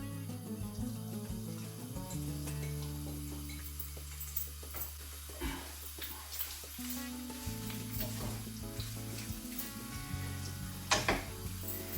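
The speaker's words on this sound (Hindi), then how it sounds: "ये अनियन को हम थोड़ा फ्राई करेंगे ताकि सॉफ्ट हो जाए।" Onions fry in olive oil with a steady, close sizzle, broken by occasional stirring scrapes in the pan and a background hum.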